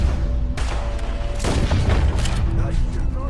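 Gunfire in a nighttime Red Dead Redemption 2 shootout: a few heavy, booming shots crack out over a dense in-game ambience, with voices talking around them.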